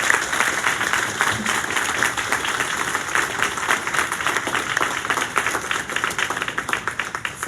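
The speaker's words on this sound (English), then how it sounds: "just give a huge round of applause for all of our employees who shared" Audience applause for hospital employees fills the room, a dense, steady wash of many hands clapping throughout, fairly loud and continuous with no pause.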